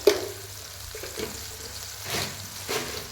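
Half a glass of water hits fried cumin in a hot pan, a sharp sizzling burst at first, then a hissing simmer with stirring swells and scrapes, close.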